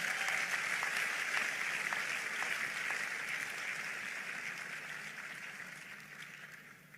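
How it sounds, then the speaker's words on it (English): A crowd at a university graduation ceremony applauds in a broad, even wash of clapping that gradually tapers off and fades toward the end. "help me give the Lord another big hand of applause"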